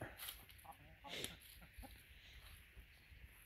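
Hens in a vegetable garden cluck in short bursts as they anticipate being fed, several faint bird calls scattered over quiet background noise.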